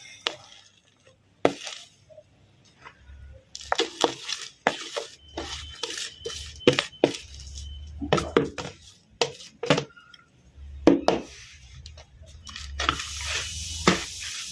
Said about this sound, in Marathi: हे सगळं आपण या मातीमध्ये मिसळून घेऊया